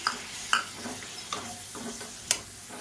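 Chopped tomatoes sizzle quietly in a pan for Tamil egg curry, with soft frying crackle and a few light scrapes and clicks from stirring, faint and close.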